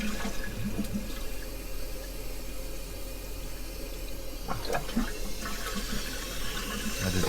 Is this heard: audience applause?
no